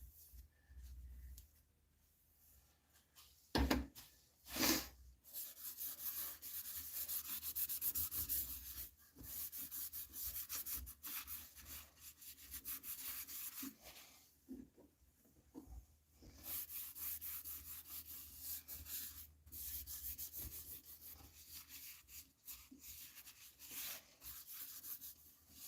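Grit paper rubs over a myrtle wood turning in irregular scratchy strokes, quiet and close, with brief louder scuffs and pauses between passes.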